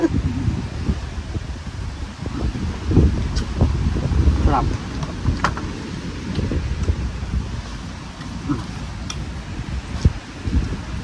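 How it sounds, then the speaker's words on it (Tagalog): Gusty wind buffets and rumbles across the microphone throughout, rising and falling, with leaves rustling and a voice speaking intermittently. "Mahangin dito"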